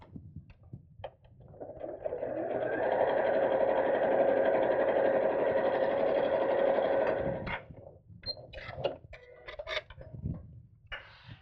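A sewing machine runs one steady burst of about five seconds, a close, even mechanical whir, as it top stitches along fabric bag handles, followed by light clicks and fabric handling.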